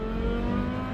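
A Porsche Carrera GT convertible accelerates with a loud, steady engine roar close by, its pitch holding high and even through a short burst without talk.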